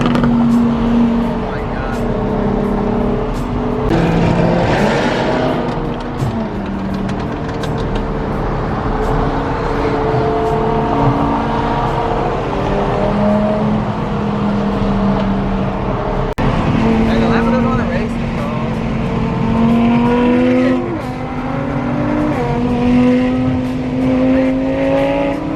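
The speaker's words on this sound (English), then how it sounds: "This car is so loud." A loud widebody Lamborghini engine rumbles and revs nearby, its pitch rising and falling repeatedly, with voices audible underneath.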